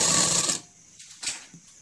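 Sewing machine running through the turned-in waistband of palazzo pants, a loud continuous whir for about half a second that stops abruptly, followed by a few faint short rustles of fabric.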